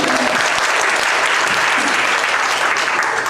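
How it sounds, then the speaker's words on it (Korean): An audience at a school violence prevention talk gives a round of applause, dense and loud clapping that stays steady for the whole stretch. "박수 한번"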